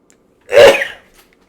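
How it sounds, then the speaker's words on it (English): A single sharp sneeze, close and loud, bursting out after a moment of quiet and trailing off quickly. "I'm going to sneeze."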